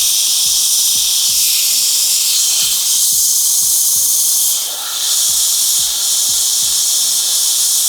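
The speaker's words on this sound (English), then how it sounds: "Every now and then you can just clean the airbrush." Steady hiss of an airbrush spraying primer onto miniatures, loud and continuous, with a faint low clicking rhythm underneath and a brief dip near the end.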